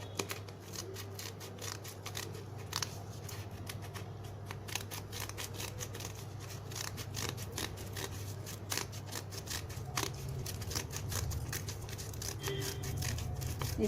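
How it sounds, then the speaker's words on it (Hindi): Decorative scissors snip a circle out of paper, a close, quiet series of rapid crisp cuts repeating steadily without pause. "और डिजाइनर सीजर की हेल्प से सर्कल काट लेते हैं।"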